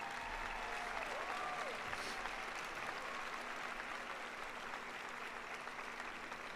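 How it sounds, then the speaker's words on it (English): Steady applause from a large commencement audience in an arena coliseum, sustained and even throughout, faint and distant with a low hum beneath. "Please give them a round of applause."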